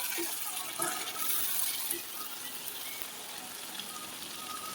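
Spices frying in oil in a pan for a chickpea curry, a steady close sizzling hiss with faint crackles that runs unbroken, with no voices.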